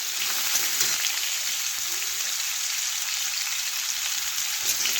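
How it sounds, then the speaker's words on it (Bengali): Cut potatoes and carrots fry in hot oil, giving a steady, dense hiss and crackle like light rain, close and even throughout with no voice. "তেল ভালোভাবে গরম হয়ে গেলে কেটে রাখা আলু ও গাজর দিয়ে দেব।"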